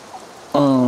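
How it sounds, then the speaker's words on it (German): A steady soft hiss of rain fills the first half, then a loud sustained tonal sound abruptly takes over. "es regnet"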